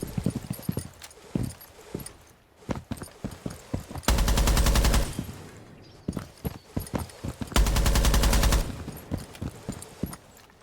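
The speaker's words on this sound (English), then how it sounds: "He starts shooting and the gun just runs away from him." Two sustained bursts of rapid automatic gunfire from a video game, each lasting about a second, stand out amid scattered sharp clicks and thumps of in-game movement.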